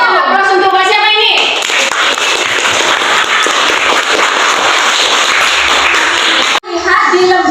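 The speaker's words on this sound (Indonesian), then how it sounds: "Berikan aplaus untuk Mbak siapa ini?" A classroom of students bursts into sustained applause for a classmate, many hands clapping in a dense burst that fills the room, with a teacher's voice briefly heard before and after.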